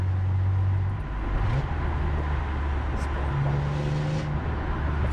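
BMW M3 E46 engine droning steadily close by after a downshift of two gears, a loud continuous low hum with a rising tone partway through.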